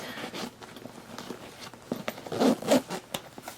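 A toiletry bag's zipper rasps open and shut in quick close-up strokes, a few brisk zips growing louder toward the end.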